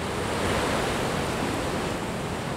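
Pacific Ocean surf breaking at Dominical, Costa Rica: a steady, dense roar of waves with a constant wash of wind, loud and close throughout with no voices.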